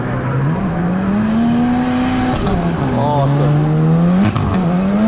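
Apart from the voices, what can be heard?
turbocharged 4-cylinder drift car on race track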